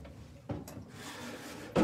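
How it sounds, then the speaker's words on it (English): A metal drawer on the side of a cabinet slides along its runners with a short rubbing scrape, bracketed by soft thumps as it starts and stops, quiet and close with no talk. "metal drawers on the sides"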